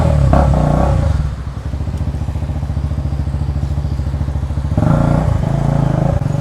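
Close, loud KTM motorcycle running with the exhaust taken off, its harsh rapid throb holding steady before a second rev surge near the end, crackling and clattering without any voices.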